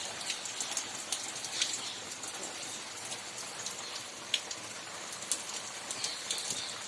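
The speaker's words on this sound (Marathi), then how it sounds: "बघा मंडळी कसा मुसळधार पाऊस पडतोय" Heavy monsoon rain pours down steadily outdoors, a dense, even hiss of drops on surfaces with occasional sharper splats, close and continuous, with faint birds in the distance.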